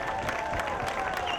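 Audience at a Portugal Day community celebration gives a short round of applause for a band, a steady mid-distance patter of many hands with faint crowd voices.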